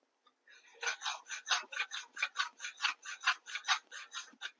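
Ginger pickle with spices is stirred in a dry pan with no oil, a quick series of close, rhythmic scraping strokes against the metal, about fifteen in a row with no talk.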